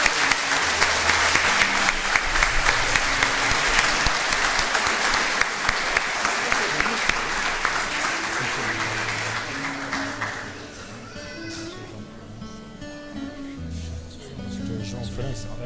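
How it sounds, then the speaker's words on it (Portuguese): Audience applause fills a pastor appreciation ceremony honoring guests, loud sustained clapping from a crowd for about ten seconds before fading into quieter room sound with some voices. "Vou pedir a todos uma forte salva de palmas a todos os homenageados"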